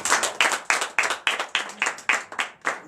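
In a Sunday worship service in Comè, Benin, the congregation claps together in acclamation, loud, close and unison, roughly three claps per second in an even, driving rhythm without speech.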